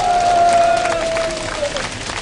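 A lecture audience in South Korea applauding and cheering, with a sustained whistle-like tone sliding slowly downward over the clapping.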